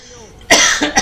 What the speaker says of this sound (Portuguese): Na hora que eu fui falar, deu vontade de tossir.